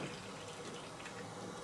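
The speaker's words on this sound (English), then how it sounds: "So you really do want this to be filled to the brim" Plain water pours into a hydroponics container, a steady close splashing and gurgling stream over a short stretch.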